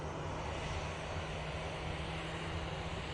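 An EasyJet airliner arriving from Amsterdam roars in to land, a loud, steady broadband jet rumble filling the air throughout with no voices.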